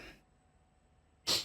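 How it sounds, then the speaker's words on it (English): A single sharp, breathy sneeze bursts out loud and close at the very end, following a second of near silence. "I'm gonna sneeze."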